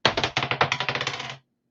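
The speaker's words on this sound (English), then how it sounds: "Same dice works. See if we roll a 1 again." Dice roll across a hard surface in a rapid string of about a dozen close, clattering bounces that slow slightly before stopping abruptly, with no voices.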